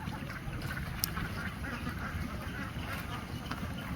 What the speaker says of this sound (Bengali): পুকুর ভর্তি হাঁস